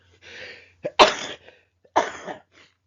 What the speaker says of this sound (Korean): 아이고 이게 또 콧물 기침 감기가 또 오나